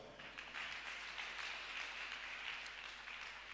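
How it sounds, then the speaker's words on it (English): Church congregation clapping hands together, a steady dense patter of many hands held at a constant level throughout, fairly distant and reverberant with no talk over it. "Clap your hands."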